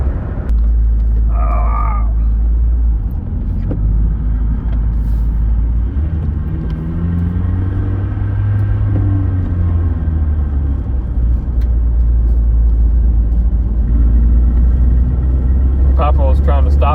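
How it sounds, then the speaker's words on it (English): Road traffic with passing trucks rolls by as a constant low rumble, swelling and fading as vehicles go past, while someone talks over it nearly the whole time. "so there's traffic"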